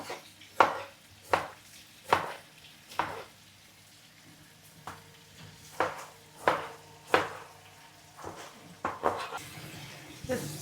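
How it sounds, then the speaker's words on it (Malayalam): Knife chopping through two tomatoes, one large and one small, on a board at home, a steady run of sharp, close thuds in bursts with short pauses. "ഇനി രണ്ട് തക്കാളി കട്ട് ചെയ്യാവേ"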